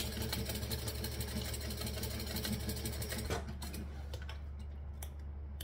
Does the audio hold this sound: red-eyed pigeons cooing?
no